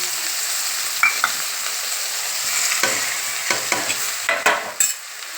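Bitter gourd with salt and tamarind stirred in a pan over a low flame: a steady sizzle with repeated scraping strokes of the spoon, close and alone, without talk.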